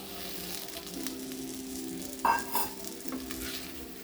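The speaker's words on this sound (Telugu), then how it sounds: "బ్లాక్ అయ్యాక సిక్స్ ఎగ్స్ వేసాను నేను ఫ్రై చేసి" Six eggs fry in a pan, giving a steady low sizzle with a couple of louder stirring scrapes midway, close and alone with no talk.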